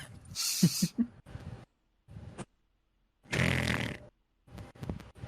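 A person imitates loud snoring for a character sleeping in a tent, giving several rough, rasping snore bursts with silent gaps between them, moderately close.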